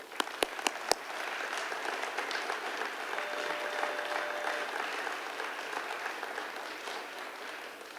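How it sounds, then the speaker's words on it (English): Applause from a crowd at a high school civility assembly, opening with a few sharp isolated claps before swelling into sustained, even clapping from many hands that continues to the end. "A little round of applause for our principals."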